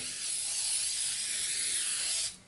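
Edible glaze sprayed from a can onto fondant makes a steady, loud hiss that runs for about two seconds before cutting off, with no voices.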